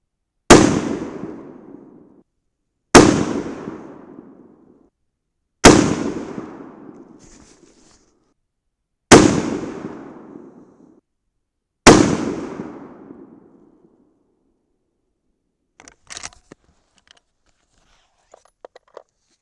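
.308 Win rifle firing 110gr Hornady Z-Max loads over Reloder 7, five loud sharp shots spaced a few seconds apart, each with a decaying echo tail, followed by faint clicks and handling noise.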